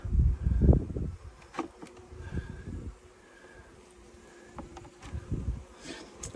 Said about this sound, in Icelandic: Sýningur eina harkalega aðferð til þess að reyna að losa býflugur úr svona kössum